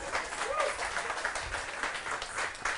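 An audience applauds steadily, a dense wash of many hands clapping together at moderate volume that holds for a few seconds without letting up.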